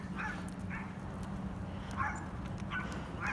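A Doberman barks outdoors during off-leash training, with a few short, faint yips and barks at a distance over a steady low background hum.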